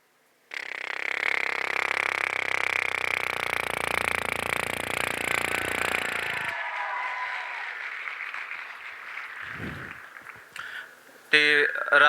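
A performer at a Punjab Agricultural University youth festival mimicry act imitates a helicopter passing overhead with his voice, a loud sustained whirring roar lasting several seconds before it drops away to quieter sounds.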